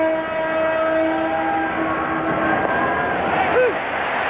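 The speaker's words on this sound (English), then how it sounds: "You may hear the whistle from the train periodically in the background." A passing Burlington Northern train sounds its whistle at a distance, a sustained two-tone blast under the steady roar of a baseball crowd during a 2000 Mariners playoff game.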